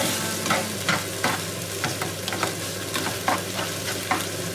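Vegan tofu scramble stir-frying in a pan, large pieces mashed with a spoon; a constant close sizzle broken by repeated scraping and tapping of the spoon, with no voices.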